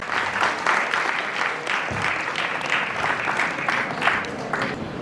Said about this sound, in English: Please give him a huge round of applause as we welcome Picapool Private